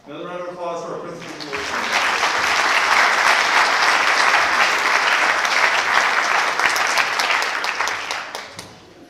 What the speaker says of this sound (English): Another round of applause for our principal